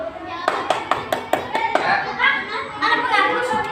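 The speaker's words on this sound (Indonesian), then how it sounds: "Tepuk satu, tepuk dua, tiga." Schoolchildren in a primary class clap their hands in a counting game, several sharp claps in a quick sequence followed by children's chatter and a brief spoken word.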